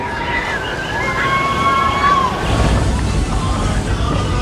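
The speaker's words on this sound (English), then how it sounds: "This is the Timber Mountain Log Ride." A log-flume boat on the Timber Mountain Log Ride at Knott's Berry Farm in Buena Park sloshes steadily through rushing water. The flow is loud and close, with a faint voice and a high whine mixed in.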